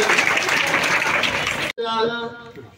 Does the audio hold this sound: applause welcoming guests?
yes